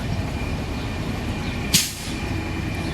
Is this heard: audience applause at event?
no